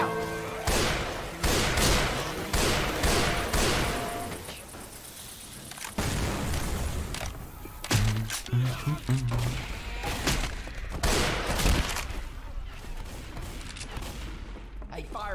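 Rapid bursts of video game gunfire firing incendiary fire bullets, loud cracking volleys and shattering impacts in clustered salvos with short lulls between, voices talking over the action.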